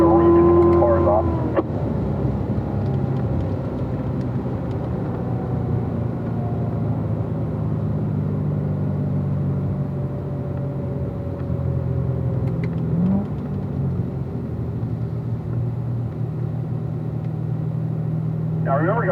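Race car engine steady through a cool-down lap at Spring Mountain race track, a continuous loud drone with interior cabin rumble, while an instructor talks over it throughout.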